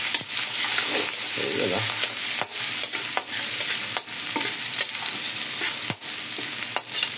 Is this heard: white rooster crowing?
no